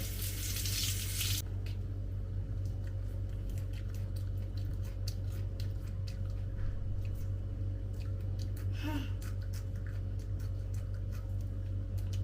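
Close, moist chewing of raw sorrel leaves, soft crunching and squishing over a steady background hum, with no talk.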